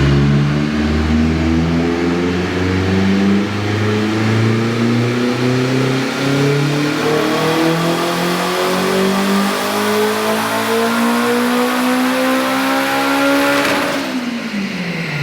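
A turbocharged K20-powered Honda Civic revs on a dyno with the exhaust closed, its loud, continuous engine note climbing steadily in pitch for about fourteen seconds before dropping off sharply at the end.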